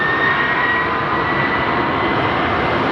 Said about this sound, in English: This is what we call a 2-for-1. Landing followed by a takeoff.